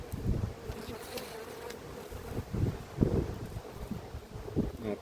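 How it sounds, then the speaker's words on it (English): Honeybees at an apiary hive, a dense steady buzz close to the microphone with bees passing nearby, wind rumble, and occasional handling bumps. "Lots of bees with pollen."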